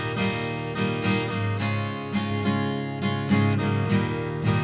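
Acoustic guitar heard through an EQ73 equalizer with its high-pass filter bypassed, so the full low end stays in; steady strummed chords ring out alone, with a thick, boomy bottom and no talking.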